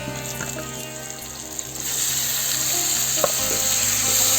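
Jackfruit and potato pieces coated in ginger and garam masala paste are sautéed in a pan, a constant close sizzle that grows louder and hissier midway, with an occasional light clink and no speech.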